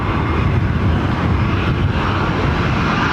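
Airliner at London Heathrow Airport, heard as a steady, loud, broadband engine roar that holds even for the whole stretch with no break.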